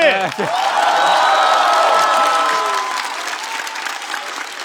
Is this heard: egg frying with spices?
no